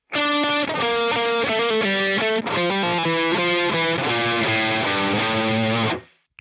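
A heavily distorted electric guitar plays a fast lick in standard tuning, a rapid run of sustained notes with a brief break midway, loud and close, ending with a sudden cutoff and no talking.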